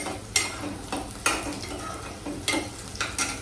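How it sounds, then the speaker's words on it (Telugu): Onions frying in a pan for a mutton kheema and ridge gourd curry, a steady sizzle broken by several sharp stirring scrapes at irregular intervals, close and moderately loud with no speech. "అయితే ఉల్లిపాయ వేగిందండి"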